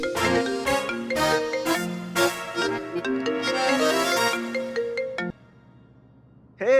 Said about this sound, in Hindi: कौन फोन कर?